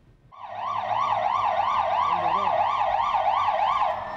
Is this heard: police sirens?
yes